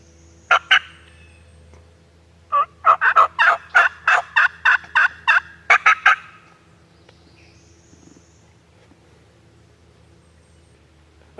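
Wild turkey in the Indiana woods gobbling in loud rapid bursts, one short call followed by a long rattling series, then quiet outdoor ambience.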